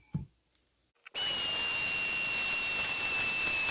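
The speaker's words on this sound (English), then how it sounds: "I'm gonna go ahead and drill some holes." After a brief knock and near silence, a power drill starts boring a drainage hole into a porcelain plant pot, a loud, sustained high whine that runs steadily to the end.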